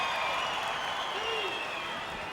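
A capacity crowd at a 1997 WWF One Night Only wrestling match between Dude Love and Hunter Hearst Helmsley cheers and applauds in a steady, distant wash, while a commentator talks over it.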